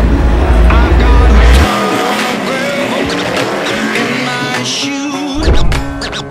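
NASCAR race cars roar around Bristol Motor Speedway at the Food City 300, a loud, dense mix of engines rising and falling as the cars pass, with a crowd and voices beneath.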